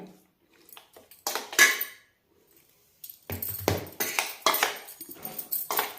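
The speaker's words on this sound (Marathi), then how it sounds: "आता ह्याला आपण छान आता मिक्स करून घेणार आहे" Marinated chicken with turmeric, salt, ginger, garlic and coriander being mixed in a pot, giving bursts of clinking and scraping metal in short rhythmic strokes, close and fairly loud, with quiet gaps between.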